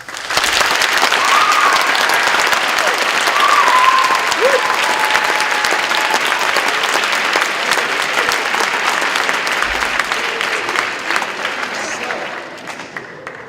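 Loud, sustained applause from a debate audience voting that God exists, a thick continuous roar of clapping with some cheering voices, slowly tapering off near the end.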